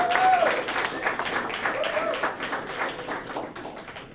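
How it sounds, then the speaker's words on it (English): Graduation audience applauding friends and family, a dense wash of clapping that holds for about four seconds, with faint voices and whoops rising through it. "let's give your friends and family a round of applause for what they've done."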